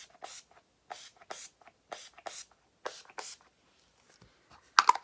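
Makeup setting spray misted from a pump bottle, a series of short, close, soft hissing bursts in an irregular rhythm with quiet gaps between them.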